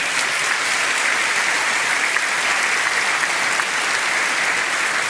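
A hall audience claps loudly and steadily, dense sustained applause from a large crowd without letup.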